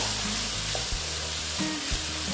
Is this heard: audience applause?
no